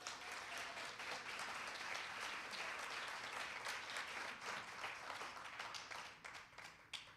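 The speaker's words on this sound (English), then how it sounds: "Can we please give them a round of applause?" Steady, dense audience applause at a speaker-series event, many hands clapping evenly for about seven seconds and thinning slightly toward the end.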